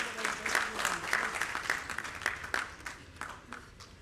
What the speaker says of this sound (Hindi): मनोज तिवारी जी को जोरदार तालियों के साथ स्वागत कीजिए।